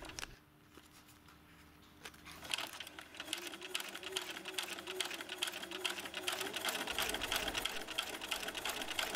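A sewing machine stitches a clear vinyl pouch, starting after a quiet pause with a few slow stitches, then running as a fast, steady, close mechanical whir that continues to the end.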